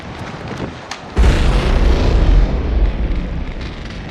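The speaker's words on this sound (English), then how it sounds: "It's a revenge grenade!" A single heavy grenade explosion bursts suddenly after a brief quiet, a loud deep boom that rumbles and decays over a few seconds.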